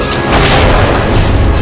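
A cannon fires a ball in a royal historical drama, giving a loud, sustained low boom that rumbles on with no speech over it.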